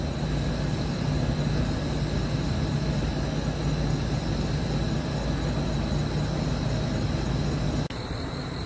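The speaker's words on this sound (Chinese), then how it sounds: "我们看一下它前面散热风扇到底有多少分贝的音量。" The front radiator cooling fan of an MG4 XPower electric car runs with the air conditioning at maximum, a steady close whooshing drone with a low hum that cuts off near the end.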